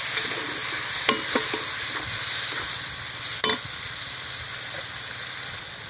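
Spices sizzle and hiss in a frying pan as a little water goes in, with steady frying, occasional sharp scrapes and clacks of a stirring spoon, close and fairly loud.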